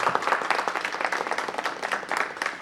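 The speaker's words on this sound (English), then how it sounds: "Let's give them a round of applause for bringing them out." People at a city council meeting applaud a child's family. The close, lively clapping comes in irregular bursts from a modest group and holds fairly loud for a few seconds.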